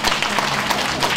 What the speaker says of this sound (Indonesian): bagikan tepukan sekalian